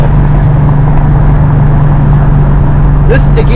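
A car engine drones at a steady high pitch, running around 4,500 RPM at highway speed near 70, a constant close hum with a faint bit of talk near the end.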